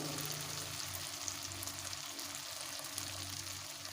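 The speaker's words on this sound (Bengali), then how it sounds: "টমেটোটাকে এবার ভেজে নেব" Faint, steady sizzle of onion and tomato frying in a pan for a pointed gourd (potol) dish, continuous and soft, with no talking.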